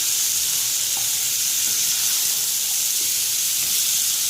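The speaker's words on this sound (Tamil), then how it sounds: "இதை நல்லா ஒரு வதக்கி விட்டுக்கலாம்." Chopped vegetables for South Indian vegetable kurma sauté in a pan, giving a steady, even sizzling hiss throughout with faint scattered ticks of stirring underneath.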